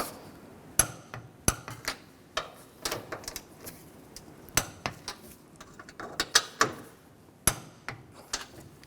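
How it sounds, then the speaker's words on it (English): Sharp metallic clicks and taps from a wrench ratcheting down strut mount nuts on a 2009–2017 Chevy Traverse, irregular and close, scattered across several seconds with quiet gaps. "Now tighten the nuts down. And torque these to 33 foot-pounds."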